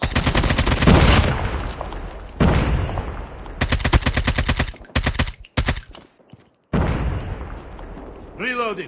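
Gunfire in Call of Duty Mobile during a Frontline match, loud bursts of automatic fire in rapid rhythmic volleys broken by short pauses, close and dominant, with a heavier boom near the start.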